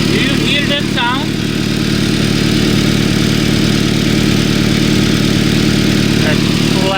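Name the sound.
Toyota Tacoma engine with exhaust manifold leak rattling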